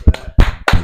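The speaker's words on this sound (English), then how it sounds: "Let's round of applause for that." Three loud, close hand claps land in quick succession, each a sharp percussive burst, coming from a single person rather than a crowd.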